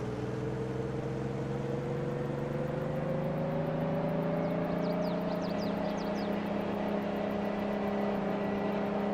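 A traffic car drives past in Farming Simulator 22, its steady engine drone rising slightly in pitch as it closes in, heard over the constant hum of the player's own vehicle.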